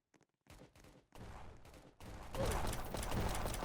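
Gunfire in the Roblox Prison Life video game, a few sparse shots that build into dense, overlapping bursts of rapid fire, getting louder toward the end.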